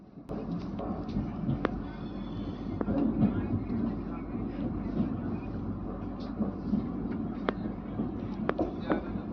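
Lucknow Chhapra Express (15054) pulling into Ballia station in a flooded area, heard from on board as a steady rumbling roll of wheels with occasional sharp clanks, continuous and fairly loud throughout.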